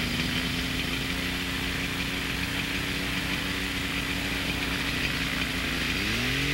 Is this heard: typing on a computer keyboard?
no